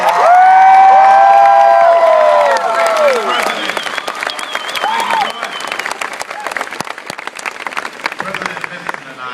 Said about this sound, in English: Would you give President Benson a rousing round of applause?